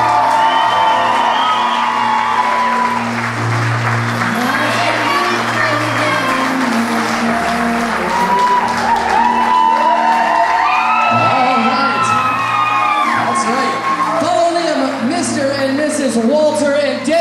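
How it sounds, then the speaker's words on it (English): Wedding reception guests cheer, whoop and shout loudly as the couple enters the room, a dense, continuous crowd roar with excited voices rising over it throughout. "let's have a nice big round of applause for Mr. and Mrs. Eddie and Lisa Wrightson"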